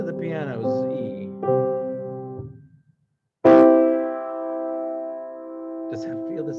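A single sustained piano E rings out in steady harmonic tones, struck twice with a short silent gap between, loud and close with no talk over it.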